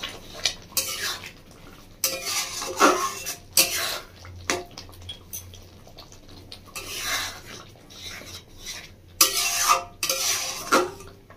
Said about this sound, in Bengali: লেবুটা দিয়ে নিই, চাটনির মতো ভালো করে নাড়াচাড়া করে নিচ্ছি